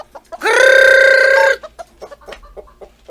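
A farm rooster lets out one loud, close crow lasting about a second, followed by a run of short, scattered clucks from chickens nearby.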